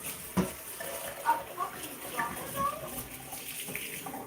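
Cold tap water runs steadily into a container for soaking dishes, a soft continuous splashing pour under a fairly quiet room with faint voices and small bumps.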